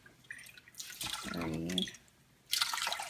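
Filtered water is poured into a pot in measured parts, giving splashing pours with a brief gurgling stretch and a pause between them. A voice counts briefly in the middle.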